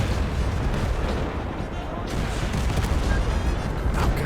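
Anti-tank guided missile fire and heavy battlefield booms in a Mount & Blade–style war game with guns, a dense, continuous roar of explosions and gunfire throughout, loud and close.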